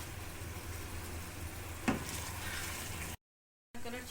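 Chicken pieces frying in oil over a medium flame, a soft continuous sizzle with a brief louder crackle midway, quiet and close, cut by a short silent gap before the sizzling resumes.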